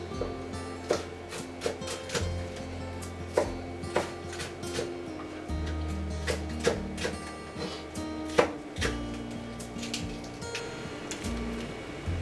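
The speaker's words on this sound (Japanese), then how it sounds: "長ネギを洗って緑の部分だけ刻んでいきます。" A knife chops through the green tops of a leek on a cutting board in a home kitchen, with steady, close, crisp taps repeating in a quick, slightly uneven rhythm and no talking.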